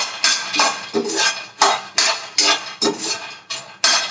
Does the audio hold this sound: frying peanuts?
yes